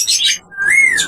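A pet parrot gives two bright whistled chirps, pauses briefly, then lets out a rising and falling whistle followed by a squawky burst, loud and close with no talking.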